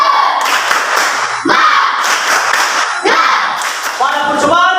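A class performs a rhythmic clapping cheer, bursts of claps in repeated patterns mixed with shouted chant-like voices, loud and close in a classroom.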